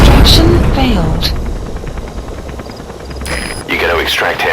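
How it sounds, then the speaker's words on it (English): Support helicopter arriving at a landing zone in Metal Gear Solid 5: The Phantom Pain, a loud rotor roar with booming engine noise and radio voices talking over it. "Support helicopter has arrived"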